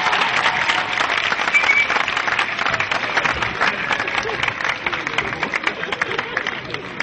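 A crowd at an Ivorian comedy show breaks into sustained, loud, even applause lasting several seconds, with faint crowd murmur mixed into the clapping.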